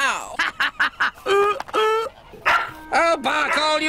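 A dog in an animated farm scene barks and yips in quick rapid bursts, close and loud, mixed with quacking-like cries and some voice activity.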